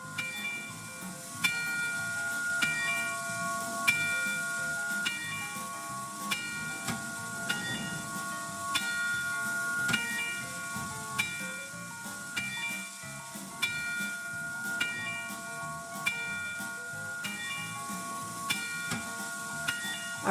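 A train slowly reversing in a train-driving video game, a low steady rumble with hissing and regular metallic clicks recurring every couple of seconds, continuous and mid-distance with no talking.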